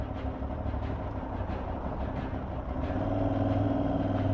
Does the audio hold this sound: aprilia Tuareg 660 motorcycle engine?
yes